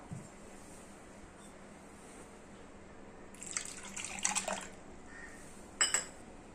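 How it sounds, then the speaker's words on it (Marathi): Cold water pours into cooked mango pulp in a pot, making a brief gurgling splash in two short bursts over a faint quiet background. "आता त्याच्यामध्ये थंड पाणी टाकायचं"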